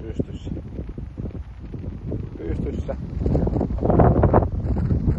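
Strong wind buffets the microphone on a solo hike in Vätsäri, Finland, roaring steadily and swelling louder toward the end while someone talks throughout.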